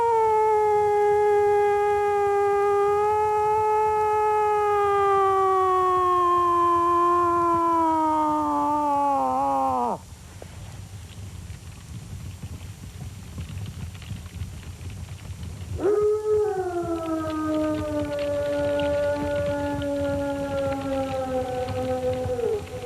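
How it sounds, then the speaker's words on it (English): Timber wolves in Algonquin Park give two long, loud, close howls, each sliding slowly downward in pitch, with a quiet gap between them in the open wilderness. "I never miss the opportunity when I'm out camping to call timber wolves"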